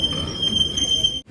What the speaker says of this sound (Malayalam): ട്രെയിൻ ഇപ്പോൾ അമ്പലപ്പുഴ റെയിൽവേ സ്റ്റേഷനിലേക്ക് ഇതാ എത്തുകയാണ്